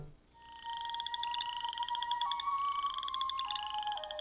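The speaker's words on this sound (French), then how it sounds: "Les rainettes faux-grillons vivent au Canada, du Québec à la Colombie-Britannique et dans le Nord-Ouest." Boreal chorus frogs call in a steady rising trill chorus, several overlapping pulsed creaks sounding continuously at a moderate distance with no voices.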